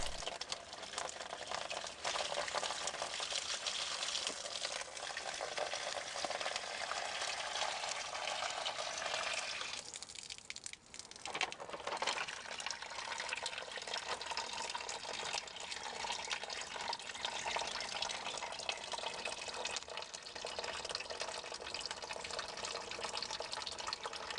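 Old coolant draining from the petcock of a Saturn's aftermarket radiator with no spout, on the passenger side, makes a steady, close pouring and splashing rush of liquid that runs the whole time with a short dip near the middle.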